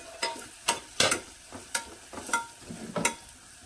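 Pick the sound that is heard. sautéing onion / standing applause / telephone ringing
sautéing onion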